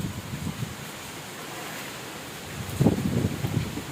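A strong night storm wind gusts through Kolkata, a broad rushing roar that swells and buffets, with a louder gust near the end, steady and close with no voices.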